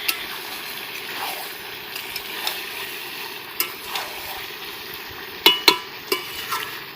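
Chicken cooking village-style in a pan, with a low steady sizzle, a few scattered sharp utensil clinks and stirring scrapes, most clustered near the end, close and moderately quiet.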